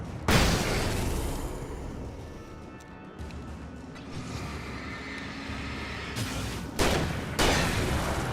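A grenade blast from the game Alan Wake Remastered, a loud broadband boom with a long rumbling tail that holds for several seconds, followed by two more sharp bursts near the end.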